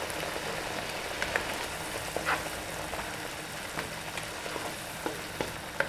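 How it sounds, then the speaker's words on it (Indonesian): Bay leaves, galangal and ground coriander sauté in a pan with a soft, continuous sizzle and scattered light stirring taps, close by and fairly quiet. "Ini kita tumis dulu sampai mateng, sampai harum"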